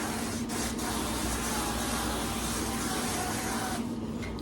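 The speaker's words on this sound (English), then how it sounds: "I'm going to give it a spray with my avocado spray" Avocado oil cooking spray hisses onto a warming griddle in one steady, continuous spray from a nearby can, with no talking.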